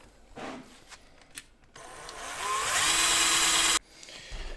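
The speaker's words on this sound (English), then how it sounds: "I don't think I'm gonna get through this with this drill" A power drill grinds into the metal casing of a NAD CD receiver, with short bursts first, then a long sustained whine that climbs in pitch before cutting off abruptly; loud and close.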